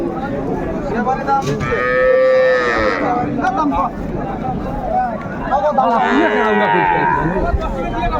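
A cow with her calf moos loudly and repeatedly at a busy village cattle market in Dinajpur, the drawn-out calls rising over crowd noise and someone talking nearby.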